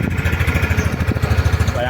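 A Yamaha Aerox 155 scooter idles through its stock muffler, a steady putter of low, even pulses up close, with someone talking over it.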